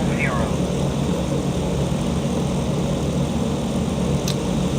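Propeller fighter plane engine in the flight game IL-2 Sturmovik 1946, a loud, steady droning roar holding constant throughout with no breaks.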